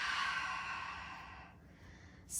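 A long, breathy exhale during a beginner yoga class, one steady rush of air fading out over about two seconds, close and clear with no talk.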